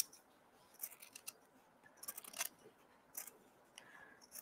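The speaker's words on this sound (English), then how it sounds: "I usually like to take a scissors or a pinking shear" Scissors or pinking shears snip through fabric while a zipper pouch is being trimmed, several quiet, crisp cuts arriving in irregular bursts.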